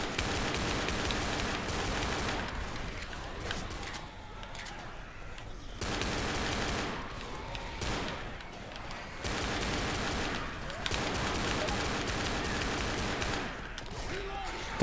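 Dual pistols fire in the video game Left 4 Dead, rapid shots in quick bursts separated by brief pauses, over a dense, noisy game soundscape.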